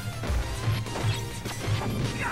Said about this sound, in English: That glass breaking sound effect, that was so good.